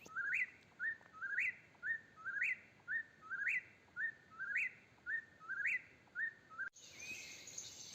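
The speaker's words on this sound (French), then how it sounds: "les oiseaux chantent à plein" Songbirds call at dawn in Quebec, with one bird repeating a bright, rising whistled phrase about a dozen times in steady rhythm, fairly near and clear over a quiet background, before a burst of rustling noise at the end.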